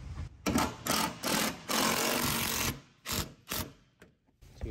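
A power driver runs bolts down snug into a pontoon boat's fence riser, whirring in several bursts of varying length separated by short pauses, close and fairly loud.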